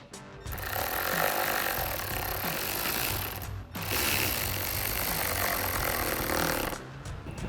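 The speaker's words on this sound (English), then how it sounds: "We're going to use our 8 millimeter socket on our ratchet to tighten this down" An 8 mm socket on a hand ratchet snugs down a hose clamp on a cold air intake tube for a Ford F-150, giving a steady, close clicking and grinding that runs nearly continuously with two brief pauses.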